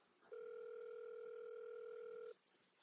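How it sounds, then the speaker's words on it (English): A telephone ringback tone sounds while a call is placed: one steady, unbroken ring lasting about two seconds at moderate volume, with quiet room background before and after it. "let's see if he'll answer the phone"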